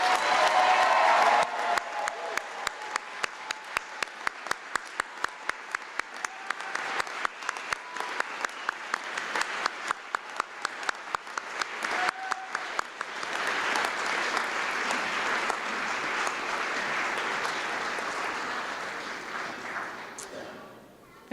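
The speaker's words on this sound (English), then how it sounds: "please give these new physicians a round of well-deserved applause" Sustained applause from a commencement audience of families and friends honoring a graduating class of new physicians at a medical school ceremony, with dense rhythmic clapping at first that swells into a broad, steady roar of claps and crowd noise before fading.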